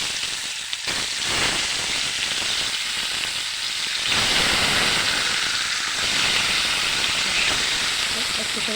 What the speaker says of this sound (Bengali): এখন কেটে রাখা টমেটোগুলি একটু ভেজে নেব।